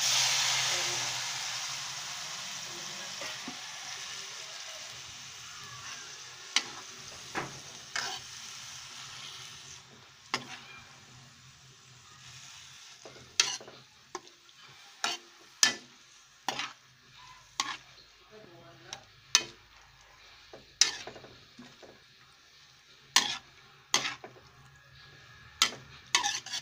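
Cabbage and bacon sizzle in a pan, with a steady frying hiss and repeated sharp scrapes and clatters of a utensil stirring against the metal, close and fairly loud.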